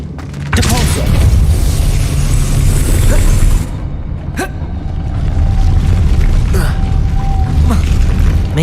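Depulso force spell cast in Hogwarts Legacy: a loud, booming magical blast with a rushing whoosh that fades, followed by further thumps and mechanical rumbling, no talk over it.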